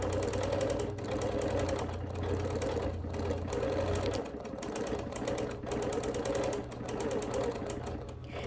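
A sewing machine quilts a wool appliquéd quilt in a steady, fast mechanical chatter that runs continuously at close range, with slight shifts in pace and a brief change in tone midway.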